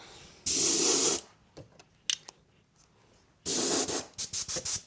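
An RC car body gets sprayed Wicked Black from an aerosol can: two long hissing bursts with a gap between them, followed by several short quick puffs, close and loud with no talk.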